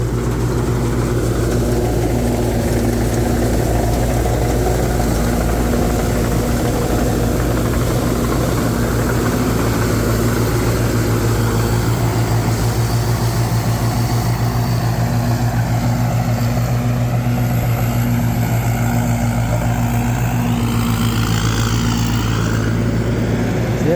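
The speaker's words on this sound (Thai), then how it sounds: "เครื่องยนต์ฮิโนเจโอ8ซี ปั๊มอีตัน 23 ครับ" Hino J08C diesel engine running steadily on a rice combine harvester with a 2.8-metre header and 2.5-ton grain tank, a loud continuous rumble and drone holding for the whole stretch with no talk over it.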